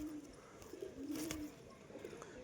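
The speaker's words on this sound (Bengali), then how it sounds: "সব আমার বাড়ির কবুতর।" Domestic pigeons kept at home cooing softly in low, rolling throaty notes, fairly quiet and close, with a faint background hiss.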